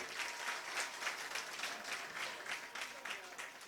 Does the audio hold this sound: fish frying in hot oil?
no